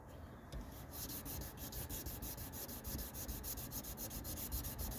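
Wet sanding a boat gauge lens with 1,000 grit: close, rhythmic back-and-forth rubbing strokes repeat steadily and evenly, with no voices over them.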